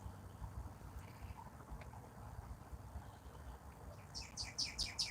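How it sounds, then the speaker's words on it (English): A songbird chirps in a quick burst of bright, rapid notes near the end, rising over a faint background murmur. "The songbird even chirped in on it."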